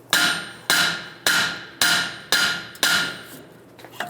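A hammer strikes the steering knuckle of a 1998-2010 Volkswagen Beetle six times in an even rhythm to free the strut, loud, ringing metallic blows close up with no voices.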